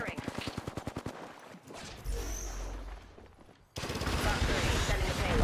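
Automatic weapon fire in the Apex Legends video game: a rapid, loud burst of evenly spaced shots, then a pause filled with mechanical and whooshing game effects, followed by dense continuous firing and impacts.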